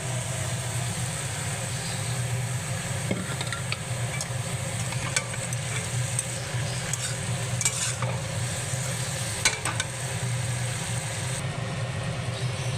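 Shredded cabbage frying with spiced masala in a pan for a Bengali cabbage and fish-head dish gives a steady, close, even sizzle with faint stirring scrapes throughout. No one speaks.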